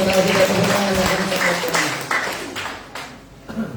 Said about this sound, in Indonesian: tepuk tangan yang kencang